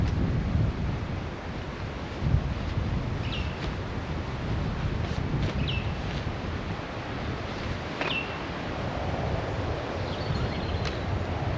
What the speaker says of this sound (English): it's a little bit breezy, but it's not terrible